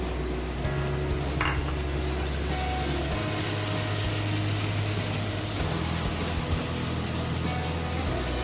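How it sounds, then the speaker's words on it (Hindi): Minced chicken is added to a pan and stirred, with clinks of a utensil against the pan over a steady, low background hum. "अब इसमें कीमा डाल दूंगी।"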